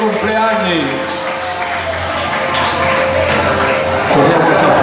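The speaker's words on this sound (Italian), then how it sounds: "un altro applauso ai festeggiati, al compleanno" Applause for the birthday celebrants at an Auser volunteer seniors' gathering in Pietrasanta, a steady dense patter lasting throughout, mixed with voices and some background music.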